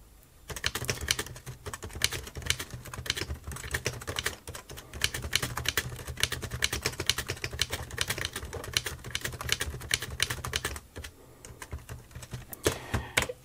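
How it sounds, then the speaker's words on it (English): Fingers typing on the keyboard of a Brother SuperPowerNote Z80 laptop, a close, brisk run of plastic key clicks with a brief pause near the end, no voices. "Let me try and type this correctly."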